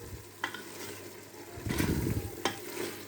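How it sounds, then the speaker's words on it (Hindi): Mutton curry masala with garlic and onion fries in a pot, giving a soft steady sizzle broken by three scraping stirs of a spoon against the metal, the middle one longest. "ये कम से कम इसको हम 3 से 4 मिनट भूनेंगे अच्छी तरह"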